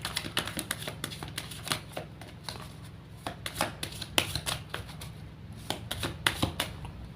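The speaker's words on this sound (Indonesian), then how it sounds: "Saya shuffle terlebih dahulu." A deck of tarot cards being shuffled by hand in repeated riffling bursts with brief pauses between them, crisp and close with no talking.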